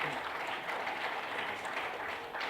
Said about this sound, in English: I think we need a little more applause for the visitors.